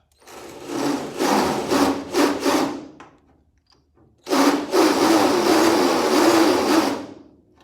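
A power drill with a deburring bit whines in short bursts, then runs in one longer continuous stretch, grinding against metal close up.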